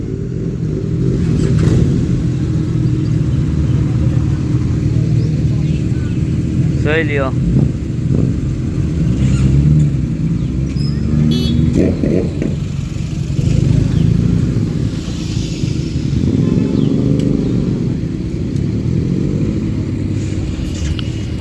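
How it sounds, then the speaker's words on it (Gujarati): Superbike motorcycles rumble and rev nearby on a street in Dwarka, a steady engine drone with occasional rising throttle blips, while someone talks over the noise throughout. "દ્વારકામાં સુપર બાઇકની લાઈન લગાવી દીધી ભાઈ"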